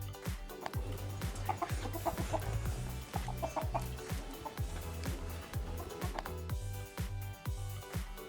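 Chickens cluck repeatedly over a steady low hum, with a rooster's calls mixed into a busy, continuous barnyard din.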